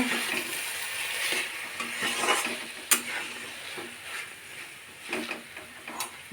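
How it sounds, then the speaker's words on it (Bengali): Bottle gourd and prawn curry stirred in a pan, with a low simmering sizzle under several scraping, clinking strokes of a spoon spaced a second or so apart, fairly quiet and close. "আবার ঢাকাটা খুলে এবার একটু নেড়ে দেব।"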